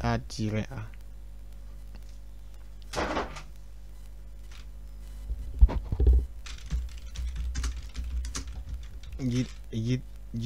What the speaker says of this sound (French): vous allez taper la commande git add-a